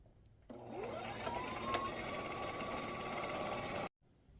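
A domestic sewing machine stitches elastic onto fabric baby mittens, its motor winding up and running at a steady close whir for about three seconds before stopping abruptly.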